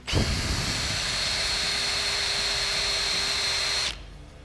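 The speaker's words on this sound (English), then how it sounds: "the first thing you want to do is start with a standard countersink bit" Power drill driving a standard countersink bit into fiberglass, a close, steady high-pitched whine with a gritty cutting hiss that starts sharply and cuts off after about four seconds.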